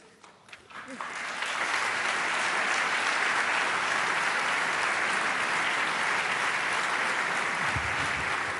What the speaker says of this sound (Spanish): No me detuve para que me aplaudan